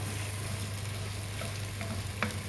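Food fries in a pan in a home kitchen, a constant close sizzle with faint stirring ticks over a low hum, brief and with no voices.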